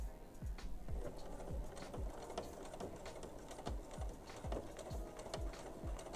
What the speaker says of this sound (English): I'm going to sew down that line